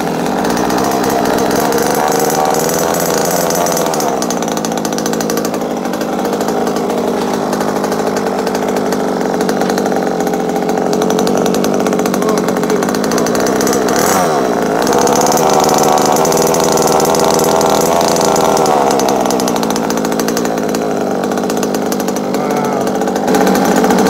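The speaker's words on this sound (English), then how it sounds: "Right now we're gonna run this engine." Primal RC dragster engine running steadily, a loud, close, buzzy high-pitched drone with slight throttle swells and one brief dip midway, no voices.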